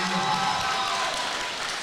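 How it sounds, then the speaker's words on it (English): A fight-event crowd gives a sustained round of applause for the fighters, a continuous dense wash of clapping and crowd noise for about two seconds. "big round of applause for these fighters"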